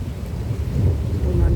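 Thunder rumbles low and steady under falling rain through an afternoon storm in summer, the heavy roll swelling slightly toward the end with no talk over it.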